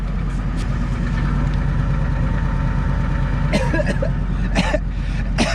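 A loud pickup truck engine with a homemade dog-food-can muffler idles steadily nearby, a constant low rumble with a couple of brief clatters on top.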